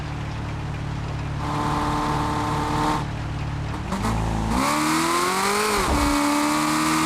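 A modded car in a driving video game revs hard and accelerates in loud engine sweeps that rise and fall, with a shift in tone midway and no speech over it.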